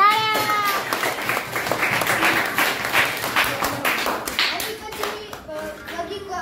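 A group of children at a values class claps in a quick, scattered round of applause that lasts several seconds and thins out toward the end. Voices are heard over the clapping.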